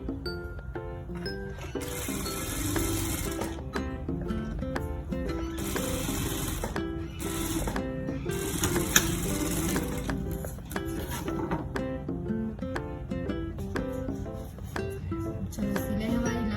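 A sewing machine stitches a princess deep neck blouse in long continuous runs with its rhythmic mechanical chatter, under background music throughout.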